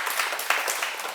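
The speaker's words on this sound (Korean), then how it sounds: "큰 박수" Audience applause, a brief and steady wash of many hands clapping together at moderate volume, with no talking over it.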